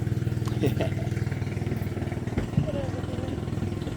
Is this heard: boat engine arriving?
yes